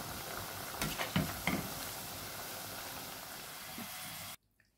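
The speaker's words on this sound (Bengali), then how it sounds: "এদিকে চিপসটা ভেজে নিচ্ছি" Potato chips frying in oil in a home kitchen, a steady soft sizzle with a few faint clinks and stirring sounds, quiet and continuous before cutting off.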